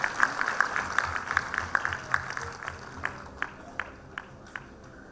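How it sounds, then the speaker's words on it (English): An audience at a graduation ceremony claps for a lecturer, a thin, fairly distant patter of hand claps that starts as a loose crowd and tapers to a few sparse, isolated claps. "Everybody put your hands together and give her a round of applause"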